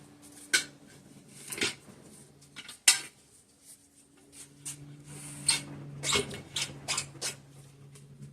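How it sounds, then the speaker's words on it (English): Metal tire spoon clinks and scrapes as it levers a car tire bead over a Honda Goldwing motorcycle rim, a few sharp clacks and scuffs spread across a quiet workshop hum. "using the lip of the spoon, it's arched this way, to grab the tire bead and pull it around the edge"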